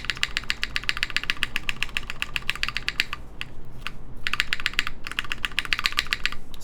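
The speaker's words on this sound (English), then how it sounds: "I do think it sounds a little nicer with this spacebar." Fast, continuous typing on a Tetrix 60 mechanical keyboard fitted with a new spacebar. Crisp, close keystrokes clatter in dense bursts, broken by two short pauses, over a low background hum.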